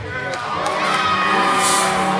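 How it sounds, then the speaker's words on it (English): A crowd at a kids' challenge course regional championship erupting in loud, high-pitched cheers and shouts, many young voices rising together and swelling toward the end. "The crowd goes crazy."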